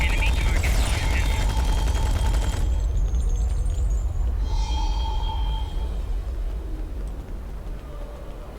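An overpowered submachine gun fires rapid bursts in the Star Trek Online game, dense loud crackling fire for the first few seconds, then fading into rumbling ambience with faint chirps and bleeps.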